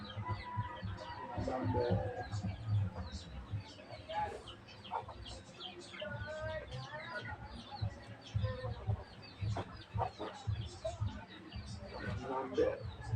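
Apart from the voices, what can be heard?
hen clucking while about to lay an egg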